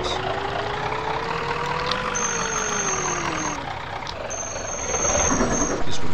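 A city bus engine in the Urbanmove Helsinki video game hums steadily with a whine that rises and falls as it runs, and a thin high tone sounds intermittently, with no talking.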